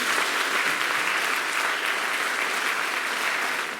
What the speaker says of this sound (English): I would be grateful if you could give a warm round of applause to all our dedicated staff